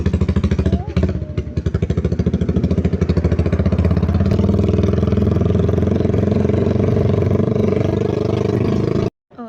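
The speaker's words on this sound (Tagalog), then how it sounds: "napakaingay ng motor ng papa namin" A loud motorcycle engine with its cover removed runs close by, a steady rattling drone with a brief stutter near the start, cutting off abruptly at the end.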